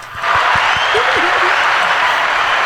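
An audience breaks into loud, steady applause for a returning guest making a second appearance, dense clapping holding at full level for the whole stretch after a brief quieter start, with a few voices and a short vocal call mixed in.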